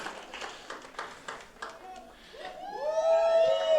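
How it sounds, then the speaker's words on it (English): An audience claps for student journalists from Monarch High School at an honor roll event, a brief burst of scattered applause that fades as a rising tonal whistle or electronic sound takes over. "you can't cheer for them enough"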